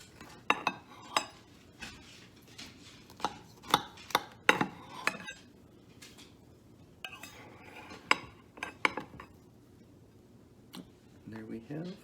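Knife and server clinking against a plate while a slice of almond and ricotta crostata is cut from the center, sharp close taps and scrapes scattered through the clip, with a voice in the background.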